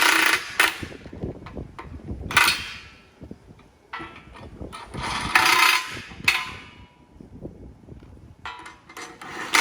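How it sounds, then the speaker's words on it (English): A 1¼ impact wrench fastens parts while a ground stand is assembled, giving several loud, short rattling bursts separated by quieter clanks and handling noise, with no talking. "Then you just take your 1¼ impact."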